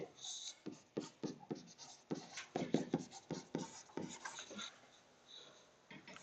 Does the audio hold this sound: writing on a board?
yes